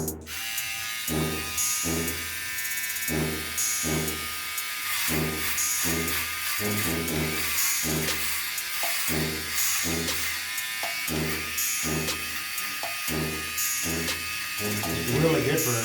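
A One Blade Pro electric trimmer buzzes steadily while cutting hair. Its tone pulses in a regular rhythm with each stroke, close and continuous for about fifteen seconds.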